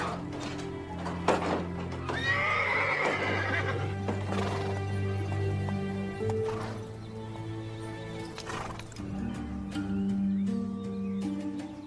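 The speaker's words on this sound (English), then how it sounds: "That's Frank James's horse, all right." A horse whinnies loudly and at length while hooves clip-clop nearby, with further snorts and movement and steady steps continuing, in a Western outdoor scene.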